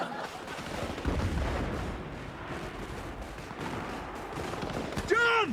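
Gunfire in a TV comedy scene, a burst of rapid shots heard amid noisy background, followed by a brief whistle-like tone near the end.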